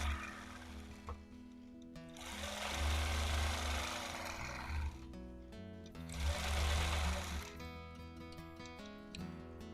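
A sewing machine quilts with ruler work, its motor whirring steadily in long bursts that swell louder and ease off, close and alone with no speech.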